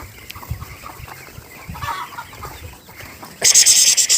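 Chickens in a farmyard cluck in soft, scattered bursts close by, ending with a sudden louder, higher squawking outburst.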